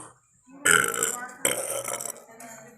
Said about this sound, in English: I gotta work my burp.